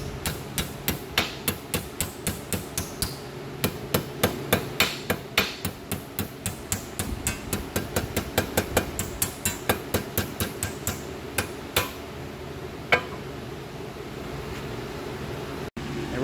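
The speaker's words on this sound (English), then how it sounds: "we're just going to beat it over with a hammer to put a bend in it" A hammer beating a metal bracket over to bend it for a turbo Miata build, with a rapid run of sharp, ringing metallic strikes close by. The blows come steadily, then thin out to a few isolated hits before stopping.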